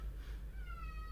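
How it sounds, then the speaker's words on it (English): House cat meowing insistently indoors, a single drawn-out wavering meow, close and fairly faint, no talk. "So if you hear crazy meowing"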